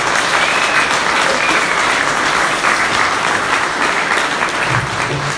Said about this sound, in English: Let's give them a round of applause for the items that they donated.